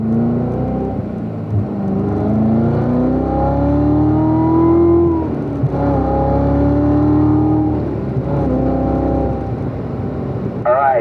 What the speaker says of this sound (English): you guys can go ahead and squeeze the throttle down a little harder